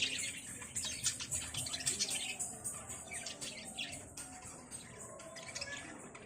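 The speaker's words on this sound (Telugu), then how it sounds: "బర్డ్స్ ఎంత బాగున్నాయి చూడండి" Birds chirping and tweeting busily in a bright, continuous chatter, fairly close, with soft background noise and no clear talking.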